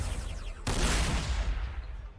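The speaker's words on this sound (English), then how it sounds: "Alright, we'll go for the super cannon." In the Warhammer 40,000: Sanctus Reach video game, a super cannon lets off a sudden heavy blast, and its booming roar trails away over about a second and a half.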